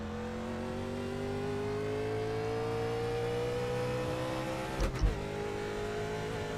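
A NASCAR race car in a Daytona and Talladega video game drones at sustained high revs, its steady engine tone rising slowly, with a brief sharp burst near the end and no talk.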